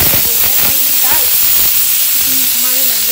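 A pressure cooker hisses loudly and steadily while black dal cooks in a home kitchen, a constant close steam rush with faint background voices and tones underneath.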